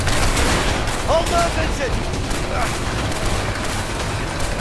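Gunfire rattles in the video game A Way Out: dense, sustained shooting and noisy chaos fill the scene with no gaps, while a voice shouts over it.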